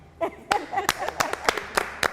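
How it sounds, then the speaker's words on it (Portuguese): A short burst of hand clapping from a few people, irregular sharp claps close by, with no talking. "aquela salva de palmas"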